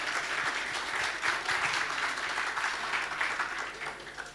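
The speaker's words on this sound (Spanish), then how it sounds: "Una vez más, fuerte el aplauso para Gustavo" An audience applauds at a music festival, a dense, steady wash of clapping from a crowd heard at moderate distance, rising and holding through the clip without speech.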